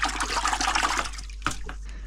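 Halved blue swimmer crab rinsed under running water, a steady splashing rush that fills most of the moment before breaking off into a few short wet splashes and drips near the end.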